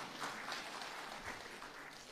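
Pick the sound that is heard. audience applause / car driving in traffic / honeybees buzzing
audience applause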